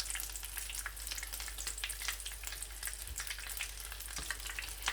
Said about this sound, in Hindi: बाकी की बची हुई टिक्कियाँ भी मैं ऐड करके तमाम टिक्कियों को फ्राई कर लूँगा